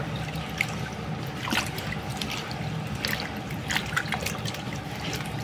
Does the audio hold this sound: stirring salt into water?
yes